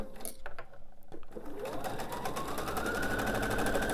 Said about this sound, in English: push this one out of the way, and sew my second piece on